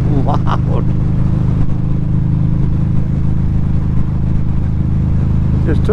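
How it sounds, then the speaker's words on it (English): A very loud car, seemingly with a straight-piped exhaust, roars past nearby on a commute, a steady heavy low rumble throughout with brief higher bursts near the start and end. "what is in that car? It is so freaking loud."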